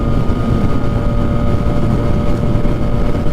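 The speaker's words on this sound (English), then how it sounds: "Oh my god, that wind right there just pushed me over crazy." Heavy, steady wind roar buffets the microphone while riding a Yamaha MT-09 (FZ-09) motorcycle on the highway, a loud continuous rumble with the engine blended underneath and no voice.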